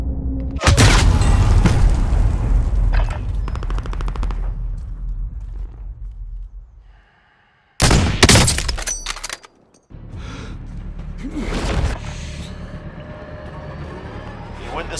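Gunfire bursts and explosive booms in a Call of Duty: Modern Warfare duos match, loud and dense with a brief near-silent gap before another heavy volley, with game voice callouts mixed in.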